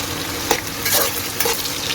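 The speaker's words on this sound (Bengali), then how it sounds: "পেঁয়াজটা ভাজা ভাজার মতো হচ্ছে" Plenty of onions fry in hot oil in a pan, giving a loud, continuous close-up sizzle broken by a few scraping stirs, with no talking.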